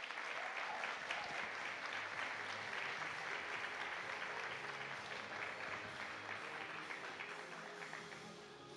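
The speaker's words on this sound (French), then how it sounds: "On l'applaudit." A gala audience in Mwali applauds steadily and fairly close, the dense clapping staying at full strength throughout with no talk over it.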